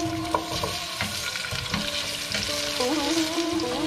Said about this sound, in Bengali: আলুটাও ভাজা হয়ে গেছে।